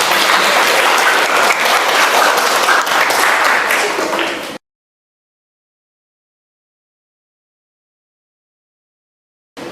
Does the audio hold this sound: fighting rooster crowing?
no